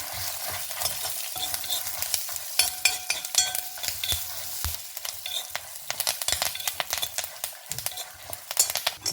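Coriander seeds and spices for a brinjal palya are stirred and roasted in a hot pan, giving a close, busy mix of dry rattling scrapes and spatula clicks over a light sizzle, continuous and unaccompanied by talk.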